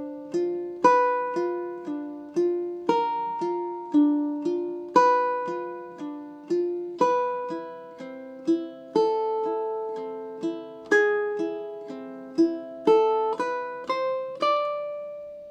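Ukulele plays measures 19 and 20 of a theme from The Legend of Zelda, with steady plucked notes ringing clearly and close, unaccompanied and without talk.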